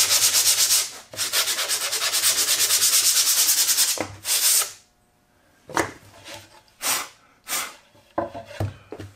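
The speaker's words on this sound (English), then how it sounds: "so I'm gonna just sand those off" Hand sanding wood fuzz left from drilling on a shooting board support: a long continuous scratchy rub for about four seconds, then several short separate strokes, close and clear with no talk.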